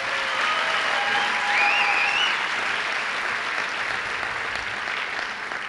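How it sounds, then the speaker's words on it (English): A school-district audience in the East High School auditorium gives student performers a full round of applause, with dense, sustained clapping from many hands, a few faint whoops rising briefly through it. "Let's give them all another round of applause"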